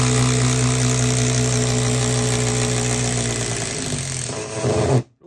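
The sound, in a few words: Makita TD173 impact driver removing a bolt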